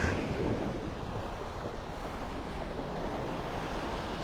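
Ocean surf washes steadily onto the beach at Delnor-Wiggins in North Naples, Florida, a continuous broadband wash with wind noise on the microphone, no voices.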